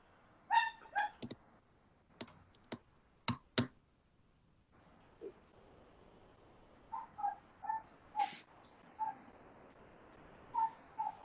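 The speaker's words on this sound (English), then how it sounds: "That's my neighbor's dog." A neighbor's dog barks off in the background during a recorded meeting, sharp single and double barks in scattered clusters with quiet gaps between, distant but distinct.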